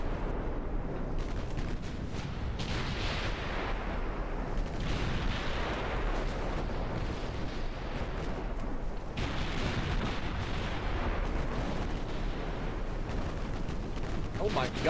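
Secondary guns on a warship in a naval video game fire at a target in a dense, continuous barrage of booming, overlapping blasts and rumbling impacts that never let up.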